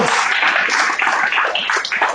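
A church congregation claps together in lively, scattered applause that stays steady and fairly close for a couple of seconds, with faint voices mixed in.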